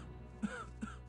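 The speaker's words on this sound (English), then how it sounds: "That coughing sound effect is one of the worst things I've ever heard." Two short rasping coughs in the video game Gothic II mod Chronicles of Myrtana, a character's harsh throat-clearing sound effect, close and fairly quiet over a low background hum.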